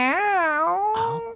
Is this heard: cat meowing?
yes